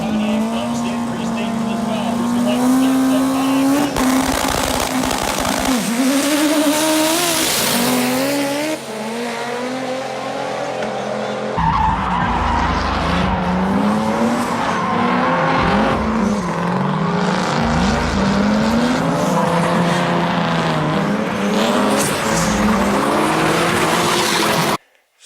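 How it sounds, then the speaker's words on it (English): A Nissan 240SX does burnouts, its engine revving hard and its tires squealing and skidding in long rising and falling bursts. The sound is loud and close, with some voices partly audible underneath. "did some burnouts."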